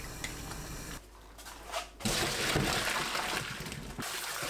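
Blanched napa cabbage greens are rinsed in cold water, with running water splashing and gushing loudly up close, broken by a brief quieter pause and handling rustles, with no talk.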